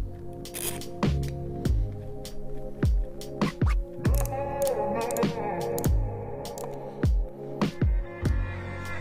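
Wrench loosening and tightening bolts one by one on an engine oil pump, a series of close metallic ratcheting clicks and clunks in an irregular rhythm, with no talk.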